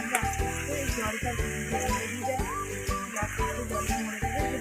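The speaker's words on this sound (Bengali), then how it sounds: "জলটা মরে যাবে, লাল লাল ভাজা হয়ে যাবে।" Country chicken frying in a pan over a wood fire in a village kitchen, with a steady close sizzle and bubbling that carries through the whole stretch.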